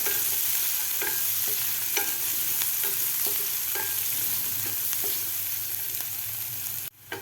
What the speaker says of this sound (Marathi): कांदा आपल्याला एक ते दीड मिनिट व्यवस्थित फ्राय करून घ्यायचा आहे